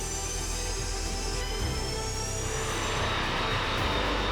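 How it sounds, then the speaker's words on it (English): Loud, steady jet engine roar filling the whole clip, building slightly in intensity as a Boeing 737 with old engines accelerates on its takeoff roll, with no voices. "The loud noise from the old engines roared as the plane gradually picked up speed."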